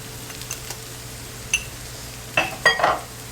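A spoon stirs flour into meatballs cooking in a pan for Salisbury steak with onion gravy, giving a few soft scrapes and clinks over a faint low sizzle.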